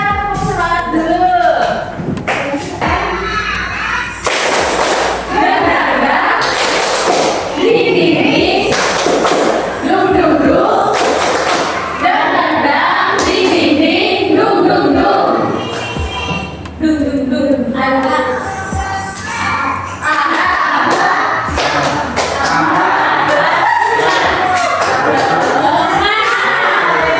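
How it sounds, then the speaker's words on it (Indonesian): A fifth-grade class does rhythmic spirit clapping in a classroom, with loud repeated bursts of many hands striking together in patterned beats, mixed with children's chanting and shouting voices throughout. "Sekarang kita tepuk semangat dulu."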